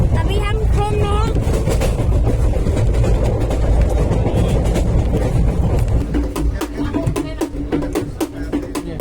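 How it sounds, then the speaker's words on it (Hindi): A passenger train rolls along the rails toward Dimapur, heard from inside the carriage as a loud, steady rumble with rhythmic clicks and rattles, while people talk over it. "अभी हम ट्रेन में हैं"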